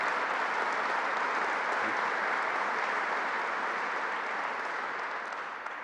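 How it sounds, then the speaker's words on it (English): A crowd at a groundbreaking ceremony for a Greater Rochester project claps steadily throughout, a dense and sustained round of applause with no one speaking over it. "Stand up so we can give you a round of applause."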